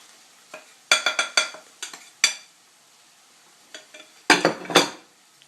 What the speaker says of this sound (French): on continue à mélanger le tout pour obtenir une pâte